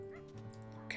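A coyote yips faintly in the Wolfquest wilderness game, a few short high yelps over a low steady hum.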